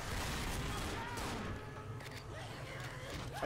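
Gunfire from the Left 4 Dead zombie shooter: a dense, loud burst of shots fills the first second and a half, then a rougher clatter of firing and game noise continues beneath chattering voices.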